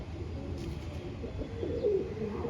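Soft, low cooing from an old Salara, also called Kalpara, breed pigeon, an outstanding male, rises near the end of a quiet moment, close and gentle.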